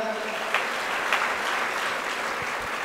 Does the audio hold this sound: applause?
yes